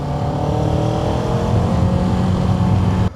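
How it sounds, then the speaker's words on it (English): A Kawasaki Ninja 7 Hybrid motorcycle pulls away from a stop on its automatic clutch, a close, loud engine note building smoothly for about three seconds before cutting off abruptly. "Roll onto the throttle and it lets the clutch out."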